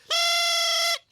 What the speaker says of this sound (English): This is called a thrump warbler.